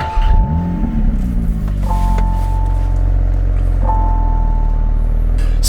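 A 2023 Porsche 911 GT3 Touring's naturally aspirated 4-liter flat-six fires up and settles into a loud, steady, deep idle heard from inside the cabin, with repeated electronic chime tones over the rumble.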